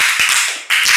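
Classroom applause for a student group during a teaching session, a short burst of close, sharp hand claps with a brief dip midway before the clapping picks up again.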